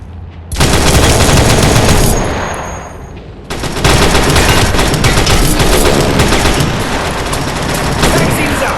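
Loud, dense gunfire barrages in a VR first-person shooter video game, continuous rapid bursts filling the clip with a short dip in the middle before firing resumes.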